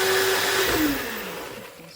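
A blender whirs through a parsley soap mixture, its motor tone whining and then sliding downward as the running noise fades, with no speech.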